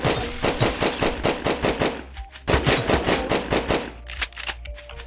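Rapid automatic gunfire in the sci-fi survival game GRAV, fired in repeated loud, close bursts with short pauses between them and no voices.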